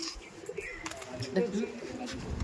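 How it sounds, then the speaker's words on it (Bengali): Soft pigeon coos rise briefly under someone talking nearby, low throaty calls against a faint background. "এখানে কিন্তু একটা ব্যাড লাইনের পায়রা"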